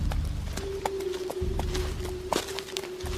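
Riding horse hooves clip-clopping in an irregular rhythm over a low rumbling background with a steady tone, moderately close, no talk.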